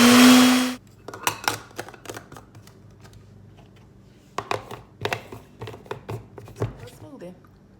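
A blender whirs loudly for under a second, mixing a smoothie with a pack of ISO detox tea, then cuts off, followed by scattered knocks, taps and clatter nearby.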